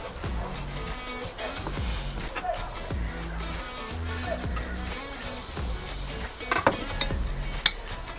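Freshly cut mackerel is mixed in a bowl, giving soft wet stirring and repeated clinks and knocks of utensil against the dish, with a faint voice in the background.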